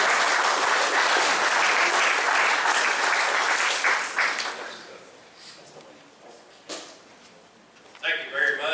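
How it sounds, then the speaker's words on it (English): An audience at a public meeting welcomes a speaker with hearty applause that swells, then tapers off into scattered claps before a voice begins talking. "just welcome him with a big round of applause"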